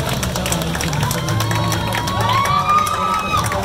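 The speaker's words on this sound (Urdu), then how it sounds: "تالیاں بجا دیجئے اس کے لیے بھرپور۔" Children cheer and shout in a crowd at a prize draw event, a loud continuous mix of voices and whoops with some clapping mixed in.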